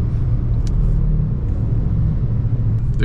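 A car idling and creeping through heavy city traffic, heard as a steady low engine rumble from inside, close and continuous, with a few faint clicks and no talking.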